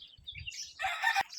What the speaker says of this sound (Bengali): এই যে চাষা দেশি মুরগিগুলা।